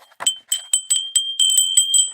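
A small bell rings in a quick, uneven series of bright, clear strikes, each leaving a short ringing tone, close and fairly loud.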